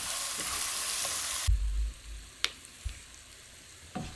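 Oil tteokbokki made from rice cake slices stir-fried over high heat in a pan: steady loud sizzle for the first moments, then quieter frying with a few sharp scraping knocks of a spatula against the pan.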